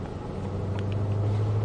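The low, steady engine drone of a Shelby heard from inside the car as it accelerates. The hum is fairly quiet and even, and it builds slightly over a brief moment.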